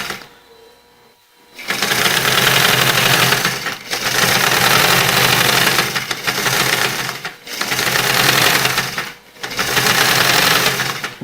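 A pedal sewing machine driven by a newly installed electric motor, loud close whirring and rapid mechanical clatter in several bursts of about two seconds each, with short pauses between runs.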